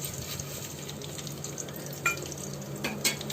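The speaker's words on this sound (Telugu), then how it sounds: "ఇప్పుడు ఇందులో కొంచెం పసుపు, ఈ నువ్వులు మొత్తం వేసుకోవాలండి." Sesame seeds and turmeric frying in hot oil in a pan for ridge gourd chutney, a steady close sizzle with a few louder crackling pops near the end.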